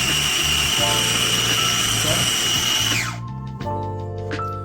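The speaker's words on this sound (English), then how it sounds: "You just want to go ahead and blend it really well." A blender whirs loudly and steadily while blending basil pesto with olive oil, then winds down after about three seconds into a lower, uneven motor hum with rattling.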